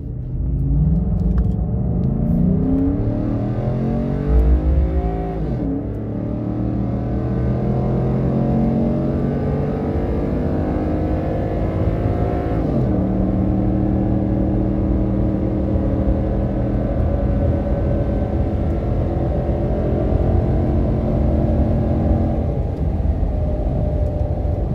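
A Ford F-150 pickup with a 5.0 V8 on an E85 tune accelerates hard through the gears while driving, a loud, rumbling engine whose pitch climbs and then drops at each shift, heard alone with no talk.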